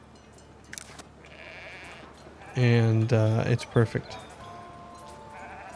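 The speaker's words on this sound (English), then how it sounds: "Sheep all over the place." Sheep bleat repeatedly in the medieval village-building game Foundation, several loud, close calls in a quick cluster mid-clip, with someone talking briefly before them over soft game ambience.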